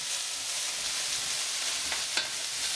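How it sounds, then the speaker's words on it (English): Chicken pieces for chicken marsala sizzle softly in a pan while being stirred, a faint, even frying hiss with a couple of light scraping touches near the end. "We're going to stir them a little bit."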